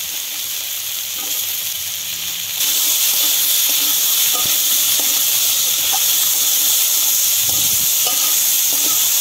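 Shredded cabbage and peas fry in a hot pan for a spicy crisp pitha, a loud, close, continuous hissing sizzle that jumps in intensity partway through, dotted with stirring scrapes, no voices.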